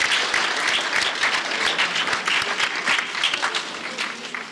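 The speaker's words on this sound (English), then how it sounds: "I want you to give a round of applause to all 3 teams" An audience gives sustained applause for three school quiz teams at a police independence quiz, a steady dense wash of clapping that fades slightly at the end.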